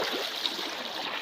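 River water flows steadily along a riverbank, a close, continuous rushing wash with no voices over it.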